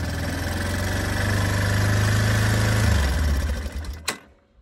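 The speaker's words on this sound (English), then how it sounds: "Well, it's actually idling, so you can hear it." A motorbike engine with a stuck throttle idles fast and loud, a steady rapid buzzing drone heard close up that drops in pitch, then cuts off with a sharp click and leaves near silence.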